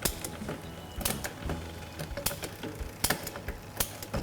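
Sharp mechanical clicks and ticks of a mountain bike rear derailleur shifting through the gears one by one, at irregular intervals, close and fairly quiet.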